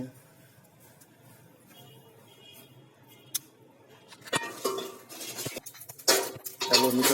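Fennel seeds coated in turmeric are roasted in a pan, quiet at first, then a burst of rattling, clinking metal stirring and scraping grows louder toward the end.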